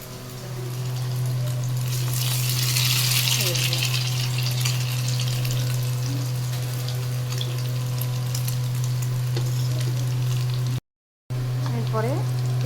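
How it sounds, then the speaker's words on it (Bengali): Egg-dipped bread, French toast, fries in hot oil in a home kitchen with a steady, close sizzle. A low, constant hum runs beneath it, and there is a brief dropout near the end. "এবার তেলের মধ্যে ছেড়ে দেবো।"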